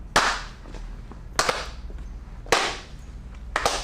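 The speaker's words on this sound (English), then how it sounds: "Make eye contact, clap at the same time." Improv acting class participants clapping hands in a circle, sharp single claps spaced about a second apart, fairly close and moderately loud, four in total with quiet gaps between.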